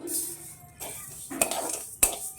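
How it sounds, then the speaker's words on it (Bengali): Mung dal dry-roasting in a hot kadai with no oil or ghee, a metal utensil scraping and clinking against the pan in uneven strokes with a sharp clink near the end. "শুরুতে আমি মুগ ডালটা ভেজে নেব"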